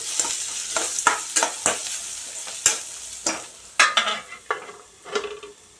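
Beetroot thuvaiyal cooks in a pan as a spoon stirs it in a run of sharp, separate scraping strokes over a light sizzle, close by, with no talking.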